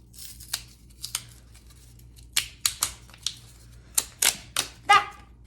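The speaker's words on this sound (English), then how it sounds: "You can also make a pretty cool stamp with cardboard if you peel off one part of the cardboard," A layer of cardboard being peeled off by hand for a stamp-making craft, a series of short dry tearing rips in quick bursts, close and fairly quiet against a silent room.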